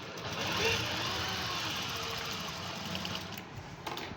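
Sewing machine stitching a kameez, a steady whirring hum close by, with a voice speaking over it.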